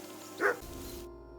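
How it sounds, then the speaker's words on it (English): A single sharp dog bark in a medieval game setting, close and clear over a steady low background hum that cuts off near the end. "You can hear that damn dog of yours barking."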